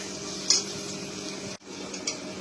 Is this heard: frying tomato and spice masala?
yes